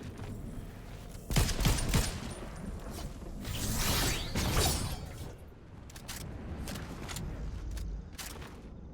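Gunfire in a Fortnite Zero Build match: a loud burst of shots early, then a whooshing sweep and scattered fainter pops and mechanical clicks, with no voices.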